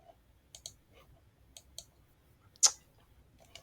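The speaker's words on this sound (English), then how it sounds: "I'm clicking on the screen. I'm clicking on share" Several sharp, quiet clicks of a computer mouse, spaced irregularly and close by, with one louder click near the end, while sharing a screen during an online pathology lecture.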